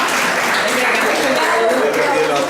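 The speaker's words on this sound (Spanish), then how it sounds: "Otro aplauso" An audience applauds in a steady, dense wash of clapping at a talk, loud and continuous for a couple of seconds with voices mixed in.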